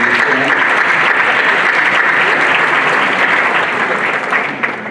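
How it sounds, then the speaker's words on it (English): Loud, dense applause from a ballroom crowd at a 2016 Shad Derby Coronation Ball, steady and sustained for about five seconds before tapering slightly at the end, with no voices over it. "A round of applause for Patty"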